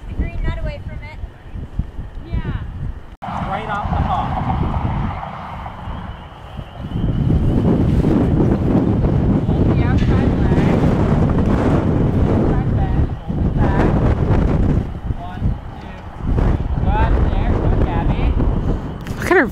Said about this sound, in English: So the wind is crazy out here and nobody can hear anything.